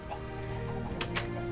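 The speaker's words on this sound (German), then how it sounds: "Jetzt hast du einen Huhn rausgelassen." A chicken in the Minecraft video game clucks softly over steady background game sound, with a couple of short clicks near the end.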